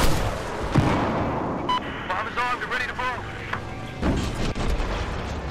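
Battlefield 4 combat with a loud boom and bursts of gunfire, rapid shots and crackling impacts over a dense battle din, with talk running throughout.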